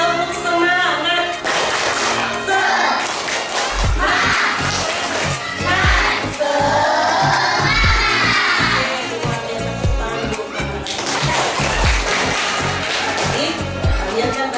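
Schoolchildren in a classroom perform the 'tepuk semangat' clapping chant: evenly spaced claps and thumps keep a steady rhythm under loud, overlapping young voices.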